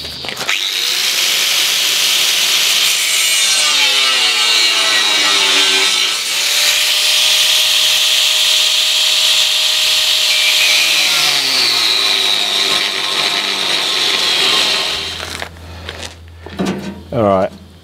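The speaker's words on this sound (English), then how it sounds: "so I can cut in here with the angle grinder pretty easily. I'm going to do a plunge cut here" An angle grinder plunge-cuts into the steel hull of a trawler, a loud, steady high-pitched whine with harsh grinding that runs for about fifteen seconds, then winds down and stops as brief clanks follow.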